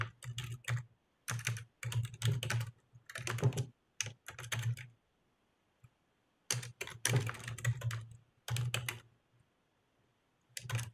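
Bursts of fast typing on a computer keyboard while a database query is written, clattering keystrokes in uneven runs broken by short pauses.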